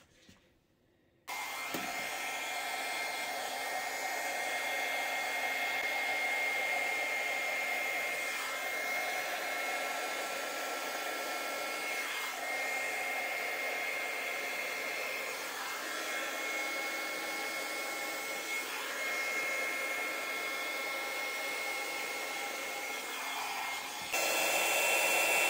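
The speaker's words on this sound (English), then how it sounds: "I'm going to aim the air at the surface of the paint, not blow down into it and try to move it." An air blower pushes acrylic pour paint across a canvas in a galaxy-themed fluid art blow-out, a steady loud whooshing hiss that runs almost without a break for about 23 seconds and rises slightly near the end.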